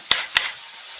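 Pork fries on a grill with a steady, soft sizzling hiss, broken by two quick crackling pops near the start, with no one talking.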